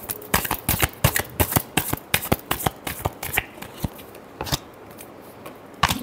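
Tarot cards being shuffled by hand make a quick, close run of crisp riffling flutters in rapid bursts. They ease off briefly and then return with one final snap.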